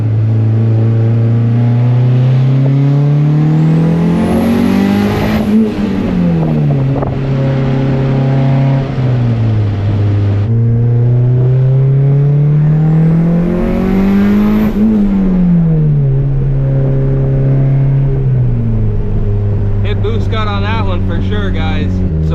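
A turbocharged Honda D-series single-cam car is driven hard; the loud engine climbs in pitch, drops, then climbs again through the gears over constant wind buffeting.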